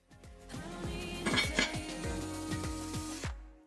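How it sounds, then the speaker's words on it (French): A lid set down on a cast-iron cocotte of simmering stew, a cluster of sharp metallic clinks and ringing knocks landing close together, then fading into a quiet pause. "je vais couvrir ma cocotte et je laisse ça mijoter tranquillement"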